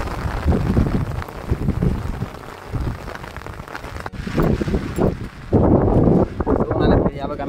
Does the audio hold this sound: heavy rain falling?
yes